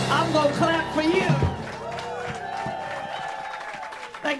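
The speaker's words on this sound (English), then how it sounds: "I'm gonna clap for you." Audience applause and cheering at a jazz festival, a loud crowd clapping with whoops that fades into a steady patter, with voices over it.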